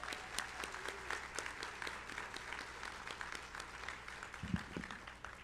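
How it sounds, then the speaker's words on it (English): Steady round of applause from a seated crowd at a police and citizens awards banquet, dense continuous clapping at moderate distance throughout, with a brief low thump near the end. "I actually think that was good enough for another round of applause"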